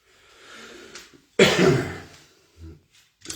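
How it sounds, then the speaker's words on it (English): A soft breathy exhale, then one harsh, forceful cough close by, followed by a couple of quieter rough throat sounds. "Not COVID, just a cough."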